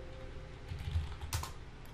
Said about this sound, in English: let's type in Apple.